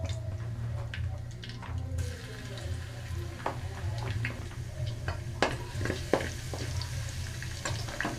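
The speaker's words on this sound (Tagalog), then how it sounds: "In the same pan, isautay na natin yung garlic." Garlic sautéing in oil in a pan for a tomato-based menudo, a steady low sizzle with scattered clinks and scrapes of a utensil stirring throughout.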